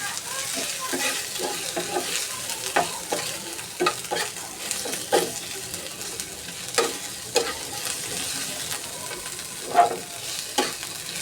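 Onions sizzle steadily in a hot pan while a utensil scrapes and stirs in repeated strokes, close by, with no talking.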